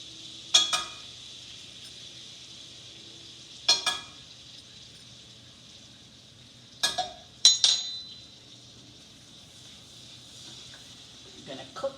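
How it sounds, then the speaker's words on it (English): Four tablespoons each of flour and melted butter are stirred together in a pan for a roux, giving a steady soft sizzle broken by a few sharp utensil clinks and scrapes against the pan. "in my pan, I have melted 4 tablespoons of butter. We're going to add 4 tablespoons of flour."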